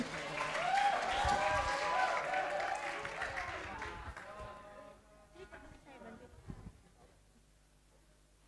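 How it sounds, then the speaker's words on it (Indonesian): Audience applause at an academic writing workshop, loud broadband clapping right at the start that thins out after about four seconds and gives way to sparse claps and quiet room noise. "Aplaus dong"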